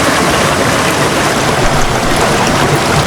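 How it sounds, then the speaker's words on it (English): Waterfall rushing near a hiking trail on the way to a lakeside campsite, a loud steady broadband roar with no breaks. "Waterfall!"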